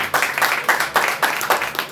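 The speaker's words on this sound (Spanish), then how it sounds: "Démosle un aplauso al Señor." Church congregation applauding during a worship service, a steady burst of rhythmic group clapping with pulsing swells, close and fairly loud, with no talk over it.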